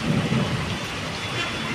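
Rain falls steadily during the rainy season, a dense, even hiss of drops that stays constant and fairly close throughout.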